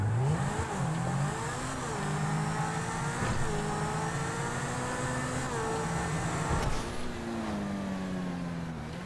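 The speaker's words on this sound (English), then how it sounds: "Now, for the way the engine sounds, there ain't no complaining here." A car engine in GTA Online revs and accelerates, its tone rising and falling through several gear-like sweeps, loud and steady throughout with no talking.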